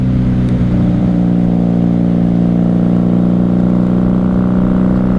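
A 1994 Honda Magna 750 VF750C motorcycle being ridden, its engine holding a loud steady drone close by without pause.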